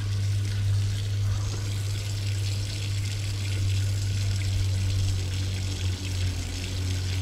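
Sulfurous mineral water pours steadily from a spring fountain in a mineral-water park in São Lourenço, a continuous close splashing flow with a strong low hum running underneath throughout.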